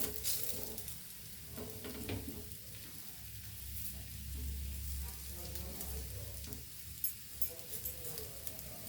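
Potato pieces fry in oil in a pan, a soft continuous sizzle and crackle at low level with occasional light clinks, no talk.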